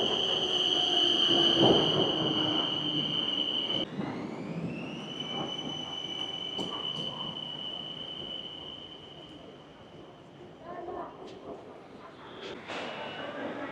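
BTS Skytrain train at Siam station in Bangkok, heard as a steady rumble with high-pitched wheel squeal and whine that shifts midway, moderately loud and continuous, with faint platform noise around it.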